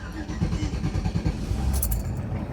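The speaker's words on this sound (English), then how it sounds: "It fired up. No squealing." A van engine cranks and fires up nearby with a low rumbling churn that settles into a steady idle, with a light metallic jingle near the end.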